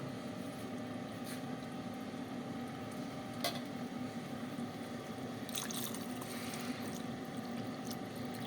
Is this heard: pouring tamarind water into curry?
yes